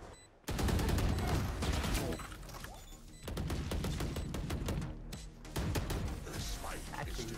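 Valorant gunfire rattles in dense, loud bursts almost throughout, with a brief quiet at the start and several short pauses between volleys, while a player talks over the shooting.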